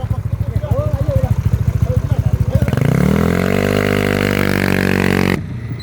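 A nearby motorcycle engine idles with a steady putter, then revs up into a loud sustained whine before cutting off abruptly.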